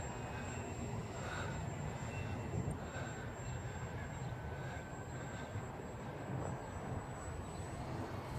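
A small RC model airplane, a Wild Hawk, flying at full throttle on a breezy day, its engine a steady faint buzzing drone heard from a distance over wind, continuous for several seconds.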